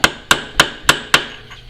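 Five sharp, evenly spaced hammer strikes on a center punch staking the clutch hub nut of a Suzuki Bandit 1200 motorcycle, loud and close, each hit ringing briefly before the next.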